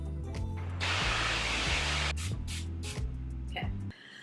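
Water sprays hard in a kitchen, likely a tap sprayer rinsing a pan, a broad loud hiss lasting a couple of seconds and then breaking into shorter bursts over a low rhythmic hum.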